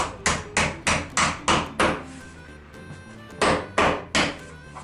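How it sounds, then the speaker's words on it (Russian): Sharp hammer blows drive a plastic mushroom-head insulation dowel through foam board into a wall in two runs, six quick evenly spaced hits, a pause, then three more, close and loud with no talking. "Вставляйте дюбель и наш грибочек. Заливайте его молотком."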